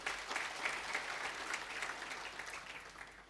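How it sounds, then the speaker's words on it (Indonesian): A church congregation claps together in a dense, even patter of applause that stays steady and fairly faint for a few seconds, then tapers slightly toward the end. "Kita beri tepuk tangan Tuhan Yesus"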